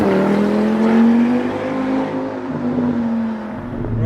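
A VW Mk6 Golf R fitted with a 500 bhp 2.5-litre Audi RS3 five-cylinder engine drives along, its loud engine note rising and settling as it accelerates, close and with no talking.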